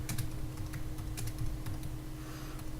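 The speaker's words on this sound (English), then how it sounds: "And I'll just type in" Steady typing on a computer keyboard while text is entered into a page: a run of close, crisp key clicks at an even pace over a constant low electrical hum.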